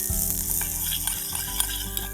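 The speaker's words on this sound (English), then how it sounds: "You hear it sizzling, then it's ready to add the powder." Butter with paprika sizzles loudly in a hot pan over an outdoor forest cooking setup, a dense steady crackle with faint scraping from stirring, no voices.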